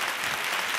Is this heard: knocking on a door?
no